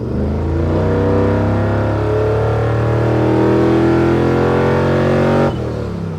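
An LS-swapped 1968 Chevrolet C10 truck is driven around turns, its V8 engine droning loud and close with steady rising and easing revs, then cutting sharply near the end.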